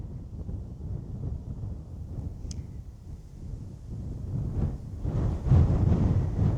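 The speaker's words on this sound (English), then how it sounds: "Windy over here, windy." Gusty wind blowing across an open trail toward a fence line in Jackson Hole, a steady low rumble buffeting the microphone that swells louder near the end.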